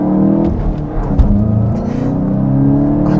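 Manual 2024 VW Golf GTI driven hard into a corner, its engine revving loudly with a rising, shifting roar and rumble from inside the car.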